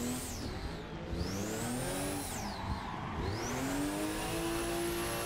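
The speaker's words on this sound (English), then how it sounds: "You like that clutch kick? Sent me into a drift straight away." A Toyota JZX100 in the Assetto Corsa racing game revs hard and drifts after a clutch kick, its engine note rising and falling in sweeping pitch swings, loud and continuous with a faint tire squeal underneath.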